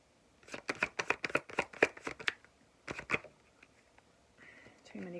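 Tarot cards shuffled by hand, a quick run of crisp riffling slaps in steady rhythm, then a pause and a couple more, close and clear, with faint talk near the end.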